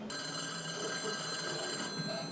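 Telephone bell rings in a Loki episode, a faint, steady electronic trill that holds evenly for about two seconds before cutting off, with no talk over it.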